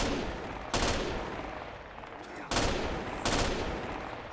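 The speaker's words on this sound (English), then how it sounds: "This gun is so loud." Loud gunfire from a video game, heavy blasts in short bursts separated by pauses, with a voice talking between them.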